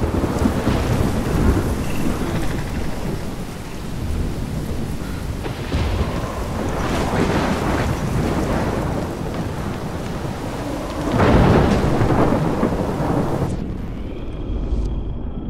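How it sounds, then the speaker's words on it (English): Video game thunderstorm in Life is Strange, set in Oregon: heavy continuous rain and wind roar with deep rolling thunder swelling throughout, loud and close, dropping away abruptly near the end. "I've never seen a storm like this in Oregon."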